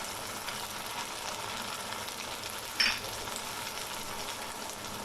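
Mutton white karahi with cream, lemon juice and butter sizzles steadily in the pan, a continuous moderate frying hiss with one brief stir clink partway through.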